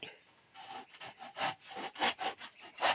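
A hand saw cuts through wood in a steady series of rasping back-and-forth strokes, close and fairly loud, starting softly and building into strong regular pulls with no talking.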